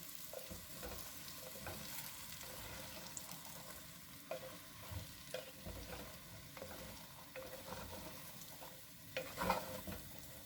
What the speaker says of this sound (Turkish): Şöyle çok hafif kuru fasulyeyi de kavuruyorum.